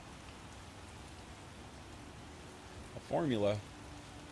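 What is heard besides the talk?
rain in video game The Witcher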